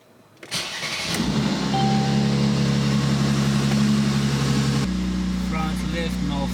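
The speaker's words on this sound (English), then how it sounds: "let's get the car started" A 2015 Mercedes-Benz C450 AMG engine cranks and catches, then settles into a loud, steady idle close by, with a shift in tone near the end.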